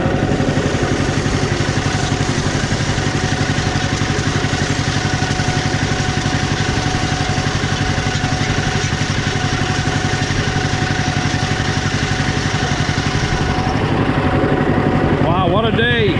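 A John Deere Model B tractor engine runs close by with a steady, loud, throbbing beat that holds constant throughout, with a slight change in tone toward the end.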